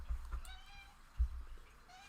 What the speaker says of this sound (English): I don't know if the microphone's picking up the cat.